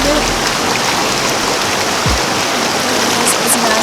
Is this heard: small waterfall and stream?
yes